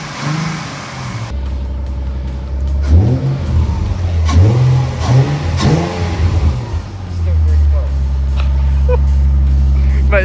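A Skoda Fabia vRS with newly fitted intakes cranks and fires up, then revs in a series of rising and falling bursts before settling into a steady, loud idle close by.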